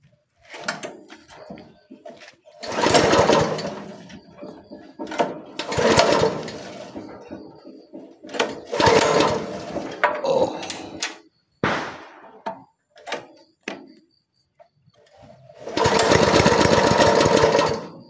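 A multifunction chopper and flour grinder runs in loud motor bursts that start and stop several times, with knocks and clunks between runs and a final sustained whir, close by.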